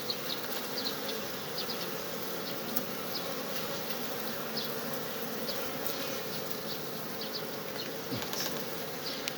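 A dense, steady hum of many honeybees buzzing close by at a hive in Ankara, continuous and even, with no talking.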